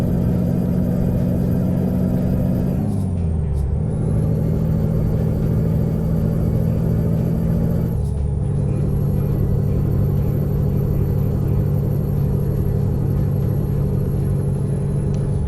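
A Peterbilt 389 truck in American Truck Simulator holds a loud, steady low engine drone as it brakes on the engine, with the pitch dropping sharply twice as the revs fall, then settling again.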